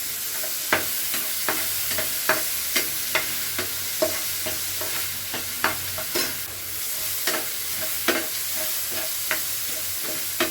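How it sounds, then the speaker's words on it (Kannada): Onion and tomato fry in a pan, a steady close sizzle punctuated by regular sharp clinks and scrapes of a spoon stirring roughly once a second, with no voices. "ಇವಾಗ ಈರುಳ್ಳಿ ಒಂದು ಸ್ವಲ್ಪ ಫ್ರೈ ಆಗಿದೆ ಇವಾಗ ಟೊಮೊಟೊ ಹಾಕೊತೀನಿ"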